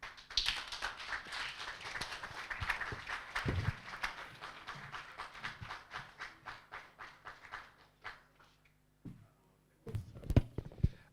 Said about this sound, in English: Another round of applause will be appropriate.